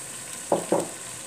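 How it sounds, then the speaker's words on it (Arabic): Chicken pieces fry in a pan with a soft, steady sizzle, broken by two quick, louder stirring scrapes close together midway. "دابا الدجاج ديالنا كيتقلى كما كتشوفوا، كيتقلى مزيان"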